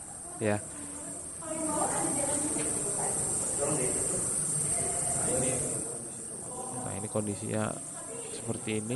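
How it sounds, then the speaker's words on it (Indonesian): Many bats chirp inside the old Gedung Juang building in Tambun, Bekasi, a steady, thin high-pitched chatter that runs the whole time beneath someone talking. "Suara kelelawar yang memang cukup banyak."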